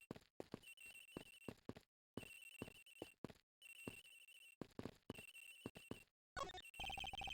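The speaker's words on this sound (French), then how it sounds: "Le téléphone de l'agent Hick. J'entends sonner, monsieur." An in-game telephone rings in Ace Attorney Investigations, a clean electronic ring sounding in repeated bursts with short silent gaps between them, ending with a brighter jingle, with no voices over it.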